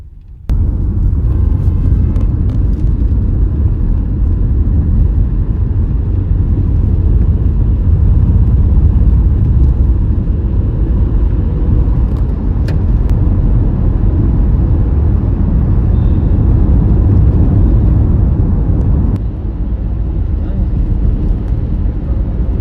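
A car cruising at speed on the Mumbai freeway toward Wadala in light traffic, a steady loud low rumble of engine and road noise throughout.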